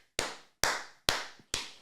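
Four sharp hand claps at an even, deliberate pace, close and loud with a clean decay after each, like members greeting a lodge leader as he enters; no talking.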